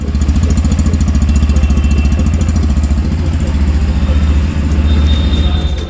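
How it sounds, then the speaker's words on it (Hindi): A loud, close 2024 Yamaha FZ-S V4 motorcycle engine starts and chugs in a steady low rhythmic putter through its silencer, idling evenly with slight throttle variation. "तो चलिए अब मैं आपको बाइक को स्टार्ट करके दिखाती हूँ।"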